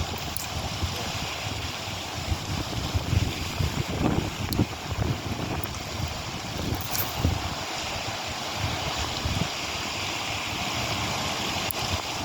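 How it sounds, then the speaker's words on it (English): Wind gusting over a lake in Papillion, Nebraska while fishing, a steady broadband rush with louder buffeting gusts and rumble against the microphone, no talking. "Oh my God, the wind."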